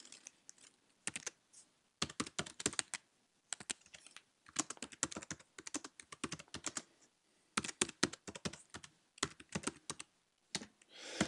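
Someone types a story title on a computer keyboard, bursts of crisp, rapid key clicks separated by short pauses, close and fairly quiet with no voice.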